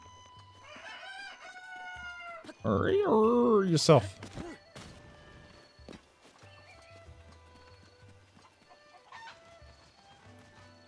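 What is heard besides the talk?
roosters crowing and clucking in video game Zelda Breath of the Wild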